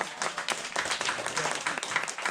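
A short burst of dense audience applause at a community gathering in a rural village, many hands clapping steadily and fairly close with no talk over it.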